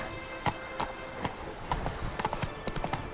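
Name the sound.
horse Roach hooves clip-clopping, video game The Witcher 3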